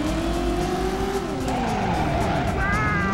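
Tires squeal as a car brakes hard in the Driver video game, a long, rising screech over a steady engine drone, with a voice talking at times over the game audio.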